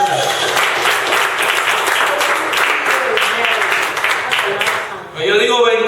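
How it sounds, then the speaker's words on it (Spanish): A church congregation applauds in a dense, lively burst for about five seconds, then the clapping drops away and a voice begins speaking over the fading room sound. "Vamos a darle un aplauso a nuestro Señor Jesús."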